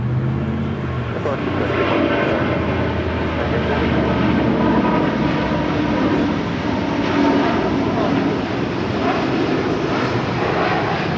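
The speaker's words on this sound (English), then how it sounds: "This is Virgin Atlantic Flight 8 Heavy departing to London Heathrow on the A350 1000." A Virgin Atlantic Airbus A350-1000 taking off from Los Angeles International Airport for London Heathrow produces a loud, continuous engine roar with a deep low rumble, holding steady throughout.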